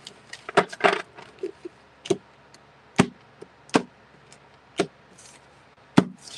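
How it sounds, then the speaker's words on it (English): A deck of tarot cards is shuffled and tapped in a series of sharp, separate riffles and knocks close by, with quiet gaps between them and no talking. "One more shuffle."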